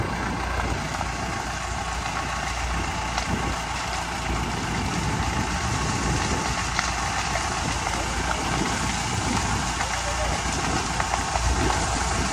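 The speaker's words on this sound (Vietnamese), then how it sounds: "Cháy ngọn lửa lớn như vậy các bạn." Sugarcane field burning outdoors, a large blaze in thick dry leaf litter, giving a steady loud roaring crackle throughout with a low rumble underneath and voices faintly mixed in.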